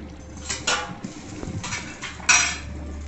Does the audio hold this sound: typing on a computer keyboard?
no